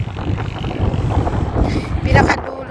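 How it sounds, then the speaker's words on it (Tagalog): Strong desert wind buffets the microphone with a steady low roar throughout, while a person talks over it in Filipino. "Ang lakas ng hangin,"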